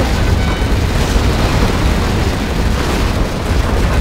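A nuclear missile launches in Command & Conquer Generals Zero Hour, a dense, sustained roaring rumble that stays loud and steady throughout, with no speech.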